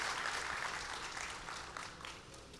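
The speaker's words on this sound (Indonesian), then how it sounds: "Tepuk tangannya boleh di-extend buat para worship leaders dan musicians." Applause in a church service for the worship leaders and musicians, a steady crowd of hands clapping at moderate distance that thins slightly toward the end.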